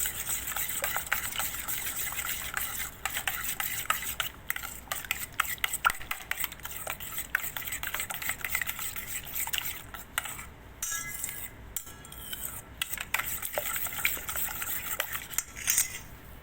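A spoon clinking and scraping against a bowl while yeast and salt are mixed for donut dough, a busy run of metallic taps and scrapes throughout, close and fairly loud, with no voices.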